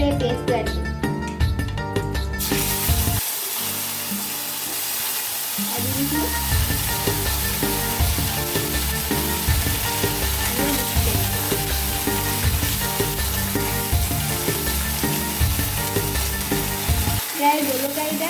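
Paneer masala paste sizzling and frying in a hot pan, a steady loud crackle throughout with stirring scrapes, no talk over it.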